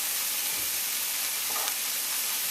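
Seim beans and potatoes frying in a pan with onions for a vegetarian curry, giving a steady, close sizzle with soft hissing throughout and a brief stir partway through.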